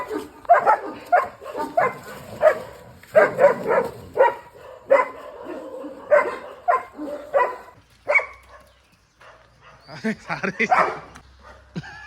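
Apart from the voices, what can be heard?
dogs barking after chasing a calf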